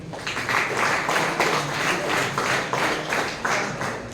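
A room of tenth-class students at a school career guidance program clapping together, a dense, steady wash of hand claps with a loose pulsing rhythm that rises in periodic surges.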